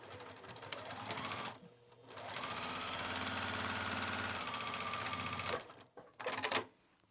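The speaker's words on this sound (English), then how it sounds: "sew those down and into place." A sewing machine stitches pockets onto overalls with a close, continuous whirring hum that runs for several seconds, pauses, and then comes back in a few short bursts.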